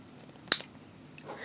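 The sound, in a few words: scissors cutting while making a beaded suncatcher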